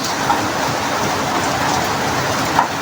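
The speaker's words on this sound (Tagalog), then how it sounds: "So lakas ng ulan na eh." Heavy rain pours in a steady, loud, close hiss of dense drops with no letup, heard alone without talk.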